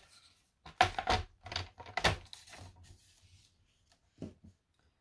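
Scrapbook paper being cut for a mini folio album, with several close, crisp cutting and rustling strokes in quick succession, then a short pause and one final snip.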